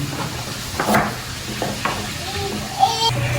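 Chop suey is stir-fried in a pan with a soft sizzle, and a spatula scrapes and clinks against the pan in scattered strokes. A faint voice murmurs in the background.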